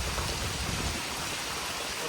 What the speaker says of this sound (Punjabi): ਮੀਂਹ ਚੈੱਕ ਕਰੋ ਕਿੰਨੀ ਸਪੀਡ ਨਾਲ ਮੀਂਹ ਪੈ ਰਿਹਾ